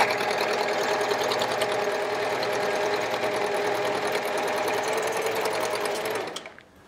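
Serger sewing a four-thread safety stitch on woven fabric, a fast, even mechanical chatter running steadily close up for about six seconds before stopping.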